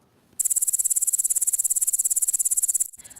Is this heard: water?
no